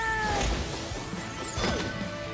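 A cat meows in the rhythm-action video game Hi-Fi Rush, a short rising-and-falling call over game sound effects and crashes, fairly faint and brief.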